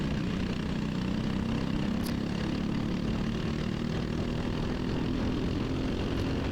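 A racing kart engine drones steadily and loudly from up close, a continuous buzzing whine with constant wind rush and no talking.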